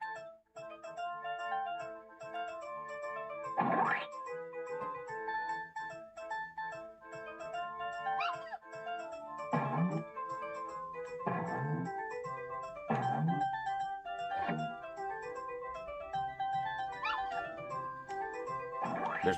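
Puppies in Earthworm Jim 2 yelp and whimper in repeated bursts over bright, steady game music, each short cry rising sharply above the looping melody.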